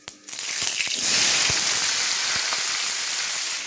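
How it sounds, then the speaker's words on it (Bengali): Cumin seeds, dried red chili, bay leaf and garam masala sizzle in hot oil, a steady bright hiss and crackle that swells after a few opening taps and keeps going. "কি তেলের মধ্যে জিরে, শুকনো লঙ্কা, তেজপাতা, গরম মশলা, জিরে ফোড়ন থেকে সুন্দর একটা গন্ধ বেরিয়ে গেছে।"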